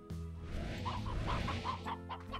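A chicken in the Slime Rancher video game clucks in a short burst of repeated calls over a low game background hum, with no speech.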